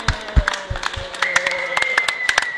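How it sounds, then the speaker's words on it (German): Scattered hand claps from a small group celebrating a team's first-place win, irregular and close, with a sustained tone running underneath. "Erstmal Applaus"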